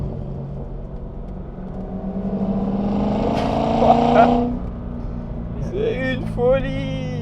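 A Corvette C6 with a 400-horsepower American V8 runs on the Le Mans circuit, its engine droning loud and close, then swelling and revving near the end. A voice speaks over it partway through.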